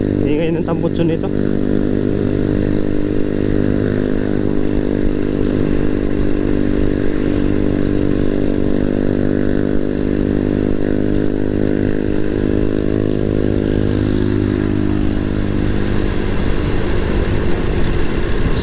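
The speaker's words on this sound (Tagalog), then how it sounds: "Sakit sa tenga yung tambutso niya." A fuel-injected Rossi Classic 250cc motorcycle with a loud exhaust drones steadily and close by with a constant low harmonic rumble, throttle shifting slightly near the end; no talk is heard over it.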